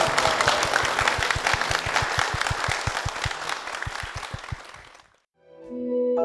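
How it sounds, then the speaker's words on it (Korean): A church congregation claps in praise during a worship service, dense sustained applause with a rhythmic low thump running through it, then cutting off abruptly before a soft musical tone begins. "주님의 사랑으로 주님께 영광의 박수를 드리겠습니다."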